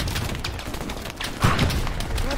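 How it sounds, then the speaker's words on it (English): Distant gunfire crackles through a foggy battlefield in the World War II shooter Hell Let Loose, scattered shots popping faintly from far away with one louder burst midway, all under a constant low rumble of ambience. "there's just bullets flying from miles away"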